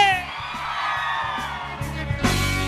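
A concert crowd at a live show in Tepatlaxco yells and whoops over a thumping band beat with a steady bass pulse, the shouting swelling into a louder roar near the end.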